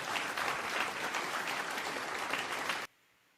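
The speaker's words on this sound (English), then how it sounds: "Let me fucking get the applause meter up." Canned crowd applause played as a sound effect, with dense, loud clapping and some cheering that holds steady for nearly three seconds before cutting off abruptly into near silence.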